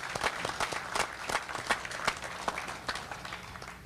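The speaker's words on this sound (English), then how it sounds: "I think we all owe him another round of applause" A crowd applauds at an outdoor memorial highway dedication ceremony honoring a fire captain and engineer, steady dense clapping sustained throughout at moderate distance.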